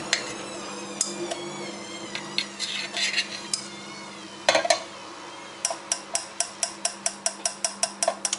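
A metal skewer handling doughnuts while they are glazed, with scattered clinks and taps early on, then a quick regular series of light metallic ticks near the end, close and quiet with no talk.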